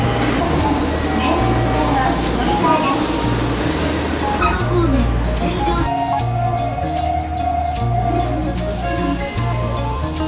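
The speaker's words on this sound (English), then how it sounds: "now the train arrived, it's going." A train in Japan pulls into a station, its low rumble and rhythmic mechanical pulsing steady under station bustle and a speaking voice, with the hiss of the brakes or doors near the middle.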